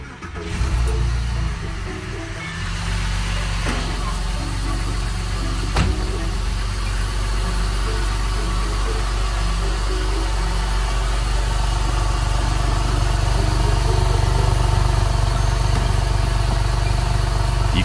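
A Porsche 996 Carrera flat-six engine cold-starting: a brief crank and catch, then a steady, slightly elevated idle with a low rumble and mechanical vibration that continues unbroken, close by.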